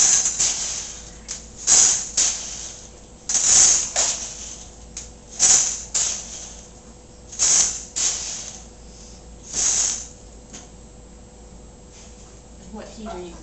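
Popcorn kernels dropped into hot oil in a cookware pan, giving repeated short sizzling hisses and spits at uneven intervals, with people talking throughout.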